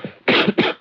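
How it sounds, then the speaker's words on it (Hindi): A man gives two close, harsh coughs in quick succession, loud and dry, with a short breath before them. "इसमें खांसने की कोई बात नहीं है भाई, सिगरेट कम करो"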